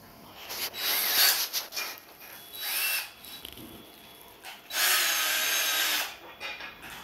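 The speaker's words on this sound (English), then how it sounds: "Get your cordless drill, put it on the end here." A cordless drill tightens a fitting on a Pro Line rope hauler, whirring in several bursts of a few seconds each, separated by short pauses and a scraping rub, close and fairly loud with no talk.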